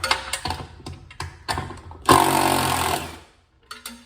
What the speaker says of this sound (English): So let's pull some screws out.